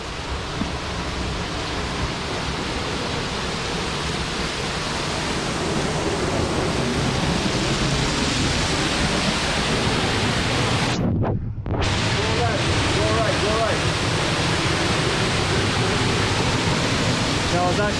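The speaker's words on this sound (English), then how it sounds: "I think we're going under the waterfall." A waterfall on the Levada Caldeirão do Inferno hike in Madeira roars close by in a steady, loud, broadband rush, briefly cutting out for a moment midway before resuming.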